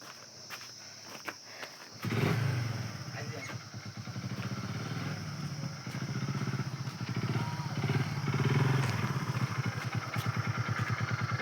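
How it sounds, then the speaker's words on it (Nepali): A motorcycle engine starts up after a quiet opening, then idles and revs with a close, pulsing throb that grows steadily louder, while a voice talks over it. "म चाहिँ बाइक चलाउन लागेको"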